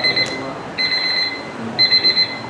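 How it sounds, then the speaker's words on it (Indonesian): A digital alarm clock beeps in repeated bursts of high electronic tones, with short pauses between the groups, at a moderate level and with no speech. "Alarm."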